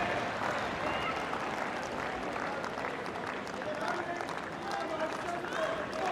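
An Australian Open tennis crowd at a Nadal fourth-round match gives steady, dense applause that holds at an even level throughout, with a commentator talking over it.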